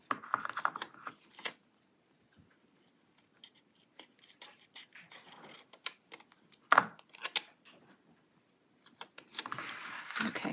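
Scissors snip through purple paper in short crisp bursts, a quick cluster at the start and more scattered cuts later, close and fairly quiet with no talking.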